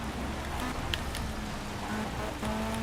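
Steady rain hiss from the Project CARS racing game at a wet Monza circuit with Formula C cars, a continuous broadband wash under a low engine hum, moderately quiet and unbroken throughout.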